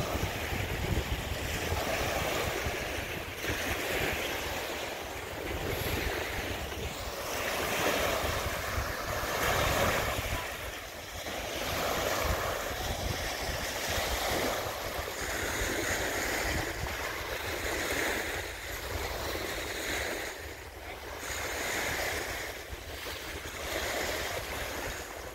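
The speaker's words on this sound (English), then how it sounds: "this is what a Greenwood Lake beach looks like in middle of March" Waves wash steadily onto a Greenwood Lake, New York beach in mid-March, a continuous broadband surf with heavy wind buffeting the microphone throughout and no talking.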